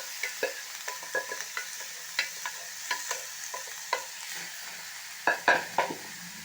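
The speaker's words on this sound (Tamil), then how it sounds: "நல்லாவே நம்ம கிளறி விட்டுடணும்" Boiled radish sautéing with tomato and onion in a pan, a soft steady sizzle with repeated scraping stirs of the spoon at an even rhythm, close up with no voices.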